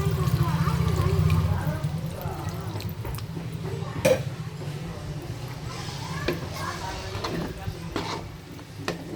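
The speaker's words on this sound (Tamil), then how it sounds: "இப்போ புளி தண்ணி ஊற்றுங்க" Tamarind water pours and trickles into a pan with sizzling and clinks underneath, running steadily for several seconds.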